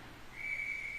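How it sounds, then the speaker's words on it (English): Referee's whistle at an amateur ice hockey game, one sustained shrill blast that starts abruptly and holds over faint rink ambience, with no talking. "Puck came loose, and he just whistled it dead."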